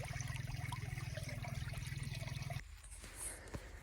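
Irrigation water runs through a channel in a village crop field, a close, steady watery rush over a pulsing low rumble that cuts off partway, leaving a quieter trickle.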